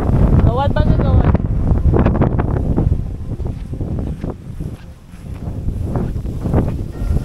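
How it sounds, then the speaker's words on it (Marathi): Strong wind gusting through jungle grass and trees, a loud broadband roar rising and falling close to the microphone, with a person talking over it. "मंडळी हवा बघा, हवा खतरनाक हवा सुटली इकडं बघा"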